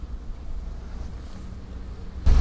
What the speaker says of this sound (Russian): Ветер ледяной просто.